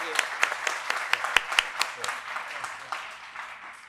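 Scattered hand claps from a small crowd, uneven and moderately loud, tapering off toward the end with some voices mixed in.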